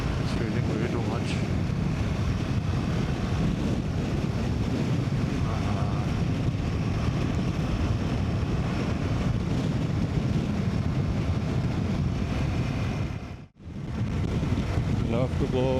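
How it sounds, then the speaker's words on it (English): Strong wind buffets a rider on a Royal Enfield Himalayan motorcycle, a loud continuous roar of wind noise against the microphone with a brief dropout near the end. "The wind is very strong right now."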